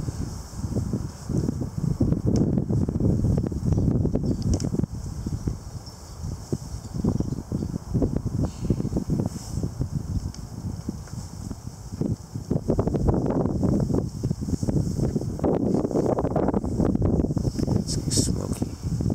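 Strong, gusty November winds arrive with an arctic front and ice pellets, roaring and buffeting close to the microphone in uneven surges that continue throughout.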